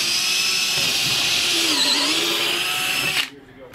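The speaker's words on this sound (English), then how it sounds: "So we're gonna even drill this over a little bit further." A power drill whines steadily at high speed while drilling during an attic lift installation, briefly dipping in pitch under load before stopping abruptly.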